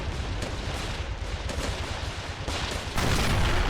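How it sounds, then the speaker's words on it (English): Dense, continuous rattling gunfire from a tank's machine gun in an army-men video game battle, loud and close, with several sharper bursts layered over the ongoing barrage. "He's going to start using the machine gun on the Greys."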